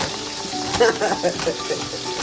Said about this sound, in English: Our water is boiling.